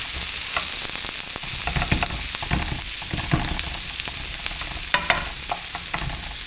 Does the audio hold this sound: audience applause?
no